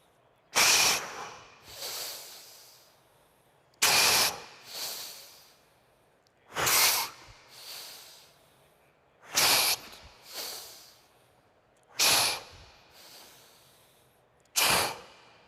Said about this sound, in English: We're going to inhale for 4 seconds, and then we're going to exhale for 2.